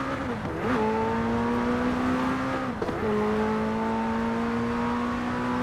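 Engine of a McLaren Senna in the racing game Forza Horizon 4, played on a Logitech G29 wheel: a loud, steady high-revving drone that climbs in pitch, dips briefly at two gear shifts, then holds a sustained whine.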